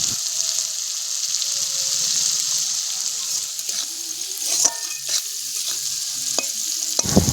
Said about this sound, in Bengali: বন্ধুরা, বিনসগুলো ভালো করে ভেজে নেব।